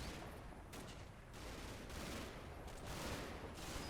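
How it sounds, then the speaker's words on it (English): Incoming mortar fire in the video game Combat Mission: Battle for Normandy, a dense crackling barrage of distant blasts and gunfire rolling continuously, harsh and noisy, with no speech. "I'm pretty sure that's mortar fire coming in, unless it might potentially be tank fire."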